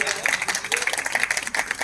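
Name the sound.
audience clapping to welcome a guest at a Gayatri Mahayagya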